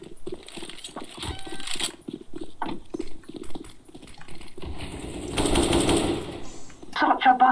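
An SG 553 rifle fires in rapid bursts in CS:GO, sharp repeated cracks close up, with other game noises between volleys and a person talking over part of it.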